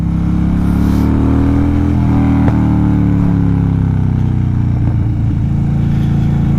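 A 2014 Harley-Davidson FXDL Dyna Lowrider on the road, its deep engine rising and falling in pitch through a downshift, loud and close with a brief sharp crack midway and a throaty blip near the end.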